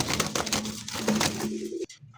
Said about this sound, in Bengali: এত ছটফট করে ভাই কবুতরটা